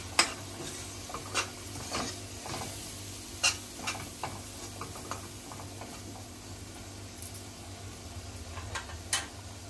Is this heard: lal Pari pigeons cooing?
no